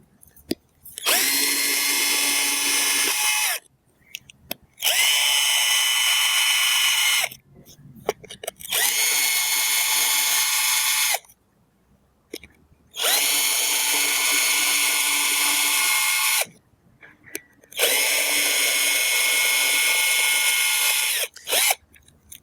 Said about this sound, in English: I'll take my drill. We'll drill some holes through the grout line here.